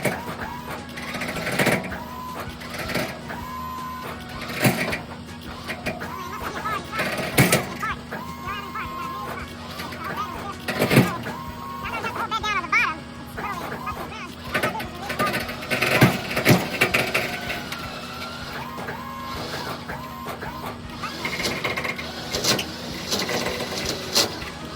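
The tilt bed of a tow truck is worked by remote, giving a continuous mechanical whine and hum broken by clunks, knocks and metallic bangs, close by, with someone talking at times.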